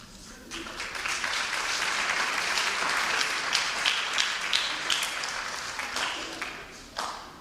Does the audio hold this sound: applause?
yes